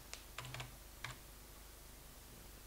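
A handful of quick keystrokes tapped on a computer keyboard in short clusters, faint and close, followed by quiet.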